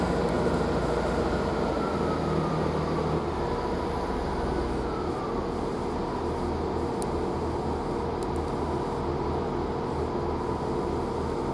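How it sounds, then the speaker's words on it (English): A Great Western Railway train pulls out of Basingstoke station, a steady, fairly close rumble of wheels and engine that holds for the whole stretch, with faint squeals high above it. "We've got Great Western Railway now departing here"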